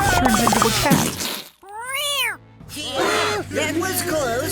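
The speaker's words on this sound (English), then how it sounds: "he turns into a cat" A cartoon cat lets out a rising and falling meow between stretches of lively, busy sound, with voices and splashy effects around it.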